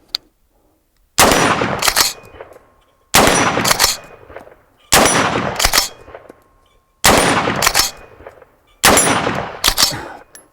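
An Oceania Precision SP-15 rifle in .223 Rem fires without its muzzle brake, five sharp, loud reports spaced about two seconds apart, each with a brief metallic ring and tail, no talking.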